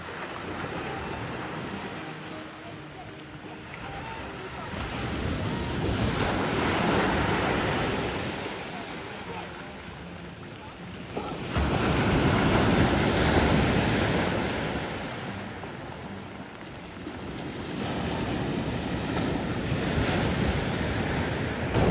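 Ocean waves roll onto Mystic Beach in steady surges, each rising and falling over about five seconds, with wind buffeting the microphone throughout and no voices.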